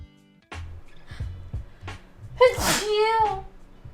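A woman sneezes once, a sharp burst followed by a trailing breathy vocal sound, with her talking and small noises around it.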